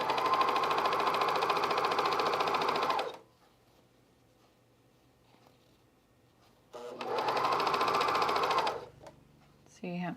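A sewing machine set for thick fabric stitches fleece in two loud, close bursts of rapid mechanical whirring and clatter, each about three seconds long, with quiet gaps between and a brief restart at the end.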